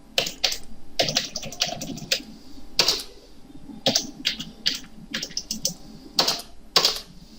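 Typing on a computer keyboard while entering text in AutoCAD, with bursts of crisp, close key clicks in quick runs separated by short pauses.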